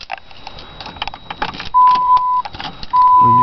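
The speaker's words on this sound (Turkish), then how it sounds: "Ona bir marş motoru sesi duyduralım." Ford Mustang starter motor cranking on a cold morning, preceded by a few light rattles and clicks, then two loud, close bursts of whirring cranking separated by a short pause.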